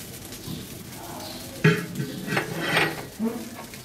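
Home-cooked fried rice with fried onions is stirred in a pan: gentle sizzling underneath, broken by several sharp scraping strokes of a spatula against the metal, with clustered hits toward the end.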